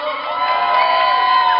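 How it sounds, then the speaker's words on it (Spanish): A crowd at a Santa Ana Catrina festival event applauds and cheers loudly, a dense, sustained roar of clapping and shouting that holds steady for under two seconds. "que se oiga fuerte el aplauso"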